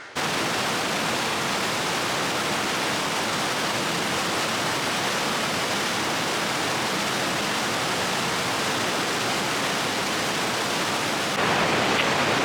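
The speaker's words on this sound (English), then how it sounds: "It's crazy how much water is coming down even this late in the year. Just roaring rivers." A roaring mountain river in the Rockies, swollen with water late in the year, pours out a loud, steady, unbroken rush of white water close by, with no voices.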